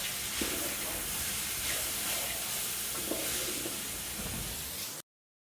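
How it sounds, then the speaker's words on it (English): Mirepoix of onion, carrot and celery sautéing in a pan for jambalaya soup, a continuous close sizzle and hiss with occasional stirring scrapes, then an abrupt cutoff. "And we'll saute this until it's nice and soft."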